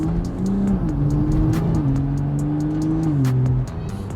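A Toyota Supra with its exhaust valves closed accelerates nearby, a steady muted engine drone rising and settling in pitch through two gear changes before dropping away near the end.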